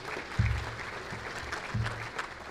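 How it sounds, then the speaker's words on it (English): Audience applause at an annual association luncheon, a short burst of scattered clapping in a room with some low thumps and murmur beneath it. "So give yourselves a round of applause."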